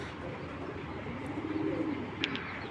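Racing pigeons coo softly and steadily in a loft, a low murmuring burble running throughout with a couple of brief higher chirps near the end.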